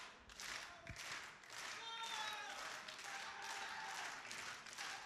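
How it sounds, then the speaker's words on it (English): Spectators at a UCW wrestling match clap and cheer steadily for El Chupacabra, moderately loud in the arena. A commentator talks over the crowd. "Crowd rallying behind Chupacabra."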